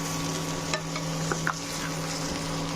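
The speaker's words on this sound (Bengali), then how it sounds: "10 মিনিট ধরে আমি আমটা উপর নিচ করে নাড়িয়ে দিচ্ছি। ভালো করে আগে ভেজে নিতে হবে এবং এই পরিমাণ তেলেই এটা ভাজা হবে।" Raw mango pieces stirred in hot oil for a traditional Bangladeshi mango pickle give soft, steady sizzling with a few light scrapes and taps of a spoon against the pan, and no talk.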